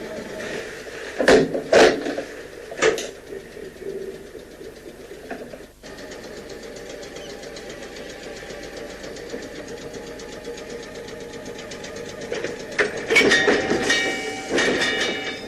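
An electric multiple unit train, a Network SouthEast AC unit, pulling forward to couple up, a steady mechanical hum and rumble with loud clanks and bumps near the start and end.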